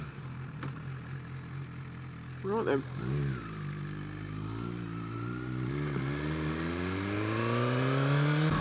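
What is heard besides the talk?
Suzuki GSX-R1000R motorcycle with Yoshi exhaust starting and revving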